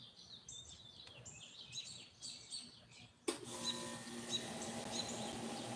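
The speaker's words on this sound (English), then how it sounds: "We're just taking in the sounds of the nature around us, the birds that are chirping." Small birds chirp and tweet outdoors in a natural setting, light scattered calls at moderate distance; a steady broadband hum abruptly starts partway through and continues beneath the later calls.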